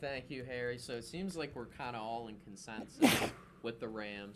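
A single sharp sneeze bursts out mid-conversation, loud and close, with people talking before and after it.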